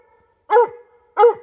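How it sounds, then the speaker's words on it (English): A mountain cur coon dog barks twice during a coon hunt at night, two loud, sharp barks about half a second apart, close by against a quiet background. "He's a coon dog."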